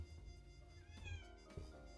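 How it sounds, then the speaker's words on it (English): A pet cat meows a couple of times close by, quiet and indoors, with soft low room noise underneath and no talking. "Hi, my cat is here. Can you hear him?"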